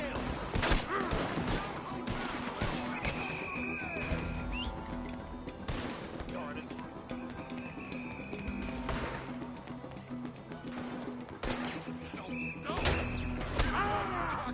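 Scattered gunshots in the Western game Red Dead Redemption 2, sharp separate cracks spread across a fight at moderate volume, with hoofbeats and distant voices between them.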